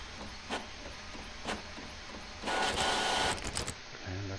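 A printer running in the horror game The Mortuary Assistant, with rhythmic mechanical clicks at first, then a louder whirring feed lasting about a second before it stops.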